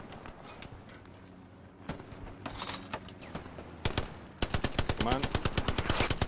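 Gunfire and artillery crack and rattle in the World War II shooter Hell Let Loose, with scattered shots building into rapid sustained machine-gun bursts, loud and near, while a voice briefly speaks.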